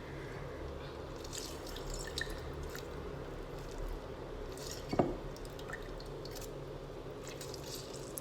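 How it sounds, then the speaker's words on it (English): Lemon juice squeezed into a cup for homemade sugar wax, soft wet squishes and faint drips at a low level, with one sharper splash-like burst midway. "Then you're just gonna squeeze it into the cup or the jar, whatever you're using."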